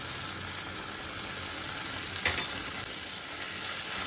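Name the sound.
pumpkin curry being stirred in the pan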